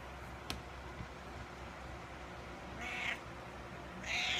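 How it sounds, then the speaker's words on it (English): A cat inside a dresser drawer meows twice, short and a bit muffled, against a quiet background with a single soft knock early on. "A kitty in my drawer."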